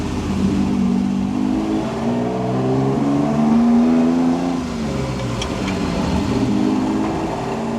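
A Ferrari 250 GTO engine pulls hard under acceleration while driving, a loud steady mechanical roar with rising and shifting pitch, heard from close by with no talk.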